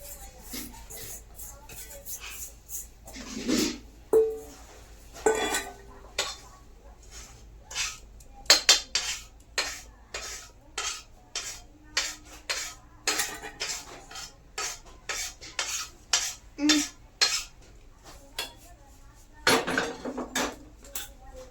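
Semolina (rava) tipped into a cooker and stirred for traditional Diwali rava laddu, heard as repeated sharp metallic spoon scrapes and clinks against the pot, close and irregular, with no talking.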